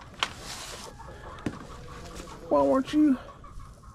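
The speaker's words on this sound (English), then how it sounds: "Oh, little chicken." A small chicken on a farm by a frozen pond gives a couple of short clucks close by, with a person talking softly around them and some outdoor background noise.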